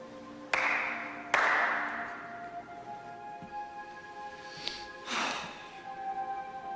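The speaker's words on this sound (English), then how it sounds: "Clap twice." Two sharp hand claps land about a second apart, close and crisp, each with a short ringing tail, followed by quieter rustling and faint background tones.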